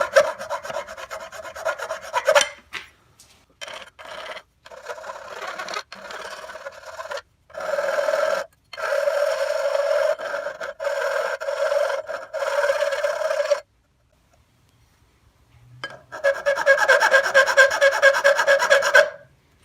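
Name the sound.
hand filing a part of a 1962 Johnson 10 hp outboard motor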